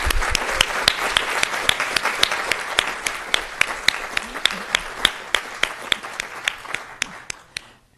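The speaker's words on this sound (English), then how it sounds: "Let's give them another round of applause for their incredible talent." A board of education meeting audience applauds student musicians, steady dense clapping that thins into a few sharp individual claps and fades out near the end.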